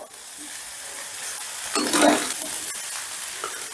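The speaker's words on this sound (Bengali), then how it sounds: "এবারে সবটা আবারও আমি একটু মিশিয়ে দিচ্ছি।" Fried cashews, raisins and paneer are stirred through pulao in a hot pan, a soft steady sizzle with scraping stirs that swell briefly midway.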